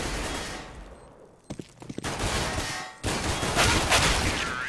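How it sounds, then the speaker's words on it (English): Rapid gunfire rattles through a competitive Counter-Strike match at a DreamHack qualifier, with dense overlapping bursts and single shots that keep going almost without a break. "And a lot of shots being missed there by Punisher and Caleb"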